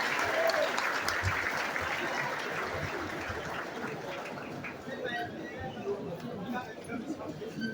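An audience applauds a speaker at a political launch event in Gonaïves, Haiti: sustained, dense clapping from a sizeable crowd, fairly loud and steady, easing slightly toward the end with voices mixed in.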